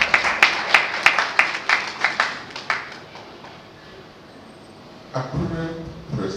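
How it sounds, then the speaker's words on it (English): Scattered clapping from an event audience honouring project leaders, a dozen or so distinct claps that thin out and fade, followed by someone speaking. "please salute them on my behalf by giving them a round of applause"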